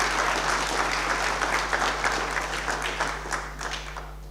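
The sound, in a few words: audience applause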